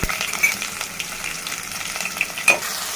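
Onion sizzles and fries in a pan for a Telugu brinjal curry, a steady close crackle with light stirring clinks and no talking.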